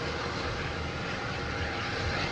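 A JetBlue Airbus A220 at Boston Logan produces a brief, steady, dense jet-engine rumble, fairly loud and unbroken, with no one speaking.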